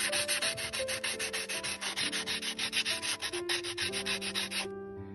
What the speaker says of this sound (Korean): 이런 곡면 부분도 사포질을 해주시고